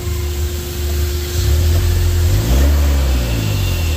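Mitsubishi L300 Euro 4 turbo diesel engine revving loudly up close, a steady mid-pitched roar that climbs in pitch then eases back, running on its own with no voices.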